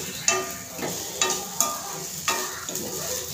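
Sabudana khichdi is stirred and sautéed in a pan, with a steady low sizzle and a few scraping strokes of the spoon at regular intervals, close and alone.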